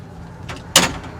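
A glass door at the back of a 2025 Palomino Puma 345BHL RV, heard as a soft slide followed by a sharp close latch or thump, near and brief over a quiet room.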